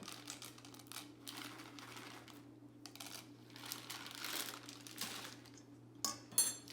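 Spoon stirring chocolate chips into pancake batter in a bowl, giving quiet, irregular clinks and scrapes close by, with a couple of louder knocks near the end.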